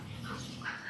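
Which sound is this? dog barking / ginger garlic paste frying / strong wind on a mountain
dog barking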